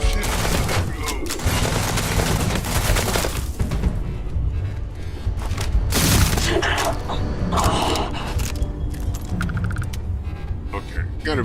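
Rapid gunfire from a gun in Starfield on Xbox Series X: dense, continuous bursts of shots with crackling impacts and a louder blast midway, close and loud, with someone talking over it.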